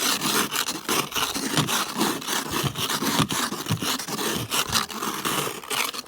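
A snow brush's ice scraper scrapes ice off a Toyota Tacoma pickup in winter: rapid, continuous, harsh rasping strokes, loud and close, going on without pause and without talk.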